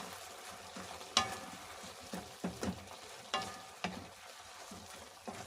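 Shrimp mixture with a little sugar being stirred in a frying pan for a cheesy spicy shrimp dish: soft sizzling throughout, broken by several sharp scraping clacks of the spoon against the pan, moderately close with no talking.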